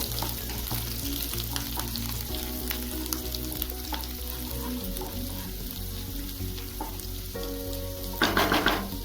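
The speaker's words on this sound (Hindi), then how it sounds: "ये सबको थोड़ी सी भून लेते हैं।" Garlic, ginger and chili sizzle steadily in hot ghee, with a louder burst of crackling near the end.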